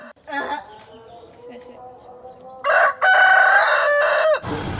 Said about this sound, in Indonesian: Ayam itu berkokok dengan suara lantang dan berulang-ulang.